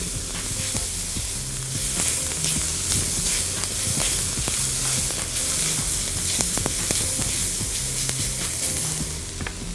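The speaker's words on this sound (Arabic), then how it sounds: "انا معلي النار، فمش دايما بنعمل السوتينج بتاع البصل في العادي" Onions sautéing over high heat for basmati rice, a loud, continuous close sizzle with frequent stirring scrapes and clicks throughout.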